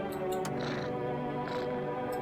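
A cat meows in the video game No, I'm Not a Human, a couple of drawn-out mews rising over a steady bed of in-game ambience and music, fairly close and moderately loud.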